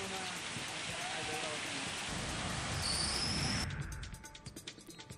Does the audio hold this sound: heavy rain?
yes